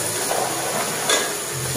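Ginger, onion and spice pastes fry in a hot pan for a masala, giving a steady close sizzle with faint stirring scrapes, alone without talk.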